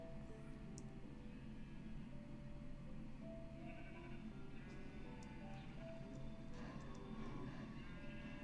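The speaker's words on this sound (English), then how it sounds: "I need more sheep." Sheep bleating in the video game Minecraft, a few faint, short bleats scattered over a steady low game background with occasional small clicks.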